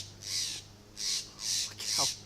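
An angry mother bird caws harshly at a cat, giving four loud, evenly spaced squawking calls close by, with a brief voice breaking in near the end.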